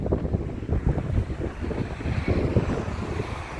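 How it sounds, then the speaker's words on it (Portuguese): Strong wind gusts of about 50 km/h roar and buffet the microphone at an airport in Porto Alegre, a steady loud rumble with no one speaking. "Aqui no aeroporto a rajada há pouco chegou a 50 km por hora, bastante vento hoje."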